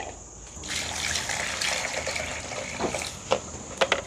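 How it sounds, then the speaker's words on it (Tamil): Onions and green chillies being washed in a pot of water in a village kitchen, with trickling and sloshing water that grows louder, then a few sharp splashes near the end. "நாங்கள் வந்து வெங்காயம் பச்சை மிளகாயெல்லாம் படிவாக கழுவி எடுப்போம்."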